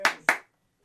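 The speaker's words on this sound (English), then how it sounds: "Golf clap." Two light, polite golf claps, close and crisp, fading quickly into silence.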